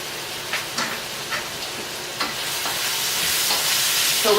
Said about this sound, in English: So we're just stirring around this meat until it gets done.